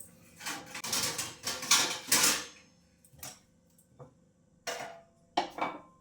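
A kadhai (wok) is scrubbed clean by hand in a home kitchen: bursts of harsh scraping and metallic rubbing come in uneven strokes, then thin out to a few sharp scrubs after a pause.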